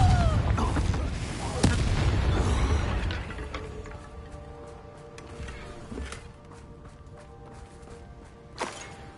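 Confringo explosive spell in Hogwarts Legacy on PS5: a booming blast opens, rolling and decaying over a few seconds, then fainter mechanical clatter and a sharp knock near the end.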